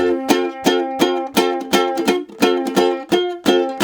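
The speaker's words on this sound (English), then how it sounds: "and then you get a twangy sound by strumming very close to the bridge over here" Bright, twangy ukulele strums played close to the bridge, with a clipped, muted decay, ring out in a steady, even rhythm, played loudly and up close.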